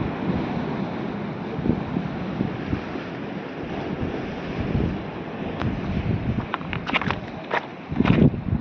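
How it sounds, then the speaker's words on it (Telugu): Ocean waves surge high against the shore at Karlapalem in Bapatla district, a continuous roaring wash of surf with heavy wind buffeting the microphone and a few sharper splashes near the end. "అంత హైట్ లెగుస్తూ ఉంటుంది అన్నమాట సముద్రం వాగులు"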